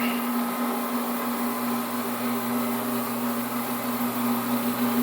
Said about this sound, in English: go ahead and get these floors abraded